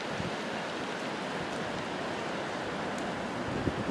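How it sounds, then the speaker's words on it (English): Strong wind rushes steadily through trees around a camp tent, a dense, constant roar with no break and no voices. "These trees are a-rockin'. Let's close out this video because the wind's getting even worse."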